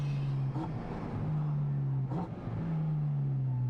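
A Porsche Cayman GT4RS with a titanium rear exhaust section driving with its valves closed, giving a subdued low engine drone that rises and dips slightly with throttle, smooth and restrained.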